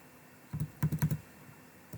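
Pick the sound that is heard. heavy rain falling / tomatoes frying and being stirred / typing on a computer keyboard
typing on a computer keyboard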